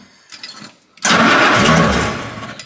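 World War II Jeep engine started with the choke out: brief starter cranking, then the engine catches and roars loudly up close before settling toward idle.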